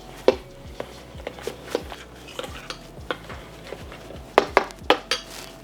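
A spoon stirs leftover gravy with cranberry Fresno hot sauce in a bowl, giving irregular sharp clinks and taps against the dish, close and fairly quiet, with no talking.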